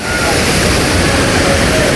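Sarugudu waterfall in Anakapalli district roars close by as a dense, loud, continuous rush of falling water with no breaks.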